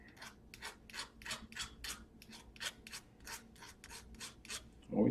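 A hand file strokes rhythmically across a burr, about fifteen quick, evenly spaced rasping scrapes, close and fairly quiet.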